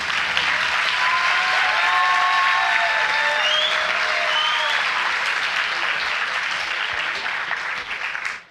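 An audience at a conference on student sport and social isolation applauds the round-table speakers, a sustained, dense burst of clapping that fills the room and fades out at the end, with no talking.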